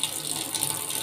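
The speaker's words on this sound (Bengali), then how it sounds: "দেখো এবার কড়ার জলটা ফুটে গেছে" Water boils in a kadai wok with a brief, steady hiss and soft bubbling, close and alone.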